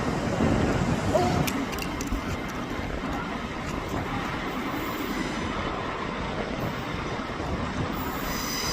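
An Azuma intercity train rolls out of platform 1 at Doncaster station with a steady low rumble, rail noise and a faint wheel squeal, heard close by and continuing throughout.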